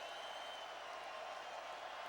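Stadium crowd noise at a college football bowl game between Tennessee and Indiana, a dense, continuous roar of cheering and applause with the band blended in, steady and loud for about two seconds.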